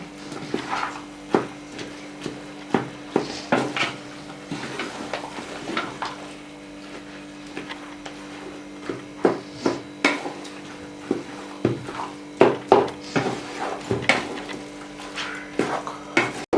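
A spoon stirs and mashes tapioca biryani with meat in a pot, making a steady run of knocks, scrapes and soft thuds for over fifteen seconds, close up and with no voices.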